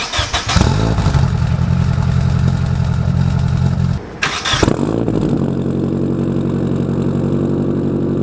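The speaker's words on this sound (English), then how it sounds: "I think the exhaust sounds perfect" A Nissan 240SX engine with a straight-pipe exhaust cranks and catches, revs briefly, stalls, then restarts into a rough, rumbling idle with a raw, throaty exhaust note.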